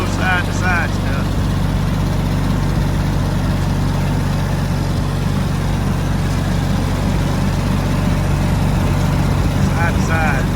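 A roughly 4,000-pound tractor pulls a bush hog mower up and down a hillside, giving a loud, steady engine drone that holds constant throughout. Brief voice fragments surface faintly underneath.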